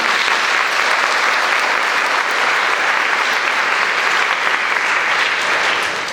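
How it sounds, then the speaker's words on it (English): An audience at a school winter concert applauds the 5th grade concert band, a full, even roar of many hands clapping continuously and loudly throughout. "Please give them a round of applause."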